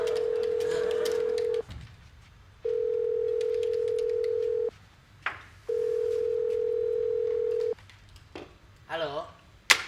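A telephone gives out three long, loud steady electronic tones separated by short pauses, with brief background voices and rustling between them near the end.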